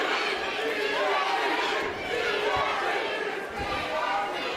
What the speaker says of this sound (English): Here you hear the DFG crowd getting loud.